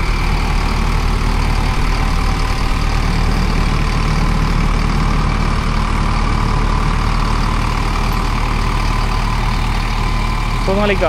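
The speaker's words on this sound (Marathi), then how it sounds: "सोनालिका जो ट्रॅक्टर आहे" A heavy Sonalika tractor engine idles steadily at close range near Juhu Beach, Mumbai, a constant low rumble that stays unchanged throughout.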